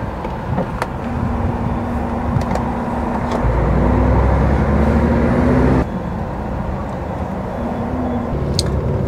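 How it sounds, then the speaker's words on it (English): Busy road traffic in Bristol, heard from inside a truck cab: a loud, steady engine rumble and road roar with vehicles passing nearby, and a low tone that rises and shifts midway. "There's some crazy traffic in this Bristol"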